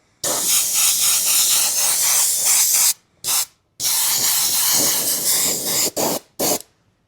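An aerosol can lays light coats of paint on a Kyosho RC car body. Long close hissing bursts alternate with short ones, separated by brief silent pauses between passes.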